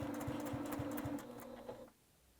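A sewing machine stitches down quilt binding with a rapid, close mechanical chatter, then slows and stops near the edge. There is no talking.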